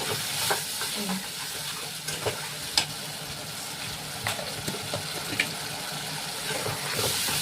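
Potato curry with tomato paste is sautéed in a pan, a close, steady sizzle broken by repeated stirring scrapes and sharp clicks of a spoon against the pan.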